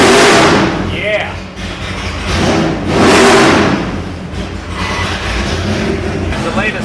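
A 572 big block Chevy crate engine with an Alien intake, built for a '69 car, revs loudly on a dyno pull, rising and falling in steady surges throughout, with voices talking underneath.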